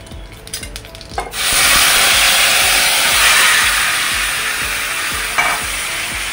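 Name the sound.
stirring mashed ripe mango curry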